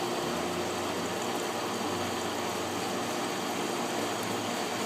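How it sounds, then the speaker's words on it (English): Steady rushing water from a pool pump drawing flow back through the system during a sand filter backwash, a continuous close wash of noise with a low mechanical hum underneath, no talking. "you get the water flowing back into the pump."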